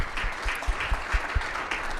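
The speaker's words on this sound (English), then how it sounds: "Yes, a round of applause." An audience at a political talk gives a short round of applause, a moderate patter of clapping with a few louder low thumps.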